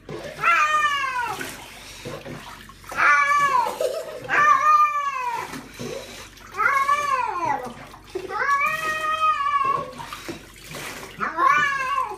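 A distressed cat meows and yowls during a bath, long rising-and-falling wails repeated every second or two, close and loud, with running water and a person's soothing voice beneath.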